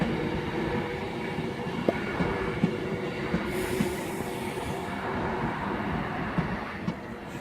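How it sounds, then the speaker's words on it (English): Train pulling out of Crewe station on the West Coast Main Line, bound for Preston: a steady, fairly loud rumble of rolling stock with occasional wheel clicks and light squeal, no voices. "the train off to Preston is departing now"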